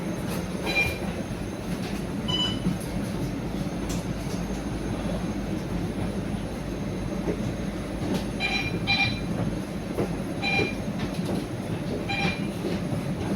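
A CRRC eD12 electric bus crowded at peak hours, steady low rumble with intermittent high squeals and brief chiming tones recurring every few seconds, no voices.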